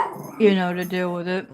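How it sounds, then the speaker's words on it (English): A pet dog yips and whines in a cramped home for about a second, high and tonal, with a person talking over it. "Excuse my dog."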